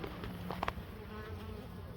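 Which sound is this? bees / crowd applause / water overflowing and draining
bees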